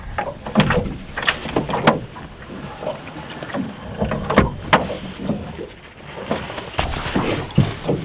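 A series of sharp clunks, knocks and creaks as a heavy outboard motor on a rental fishing boat is tipped back on its mount, outdoors on a lake with light wind.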